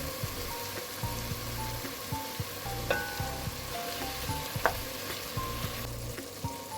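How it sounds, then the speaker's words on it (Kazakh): Meat sizzles steadily in a hot pan for kespe kozhe, a constant crackling hiss with occasional louder pops and soft stirring clatter. "Етіміз әдемі қуырылып"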